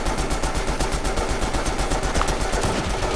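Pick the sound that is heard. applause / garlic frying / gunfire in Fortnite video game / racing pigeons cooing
gunfire in Fortnite video game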